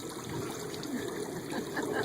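Water trickling steadily from a drinking fountain, a soft continuous splashing and dribbling sound heard fairly near, with no talking.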